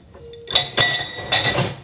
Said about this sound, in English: Now let me get a little salt, and I'm going to mix in it.